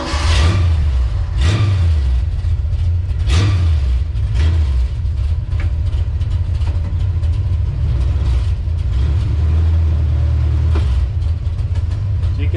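A 1979 Ford F250 4x4 pickup engine runs loud and close with a steady low rumble and a few rises in revs. The sound carries on throughout with no talking over it.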